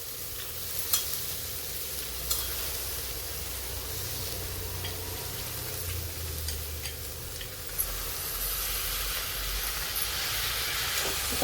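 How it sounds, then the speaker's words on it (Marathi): Soaked toor dal tipped into hot onion masala in a pan fries with a steady soft sizzle and hiss, a few faint clinks of a spoon against the pan, no voices. "आता ही डाळ आपण ह्या मसाल्यामध्ये टाकून घेऊ."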